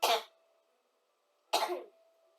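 A pair of separate coughs about a second and a half apart, close-miked and abrupt, with quiet in between and no speech.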